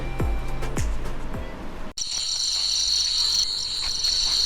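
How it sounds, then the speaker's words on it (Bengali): Crickets chirp at night around a resort in Kekaboni near Ghatshila. A loud, continuous high trill takes over midway, after some low thuds and rumble. "চতুর্দিকে ঝিঁঝি পোকার কনসার্ট চলছে মনে হচ্ছে।"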